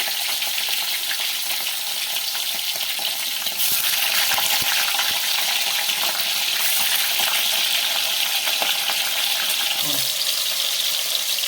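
Paneer cubes fry in a pan over reduced heat for a paneer masala, giving a steady, fairly loud sizzle throughout with a brief clink near the end.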